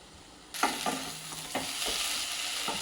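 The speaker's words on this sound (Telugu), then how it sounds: "ఇప్పుడు ఇది బాగా వేగాలి ఫ్రెండ్స్." Potatoes fry in a hot pan for a spicy potato fry. A sizzle starts abruptly and continues as a bright hiss, with several scraping stirs of a spatula close by and no talking.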